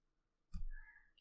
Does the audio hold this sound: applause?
no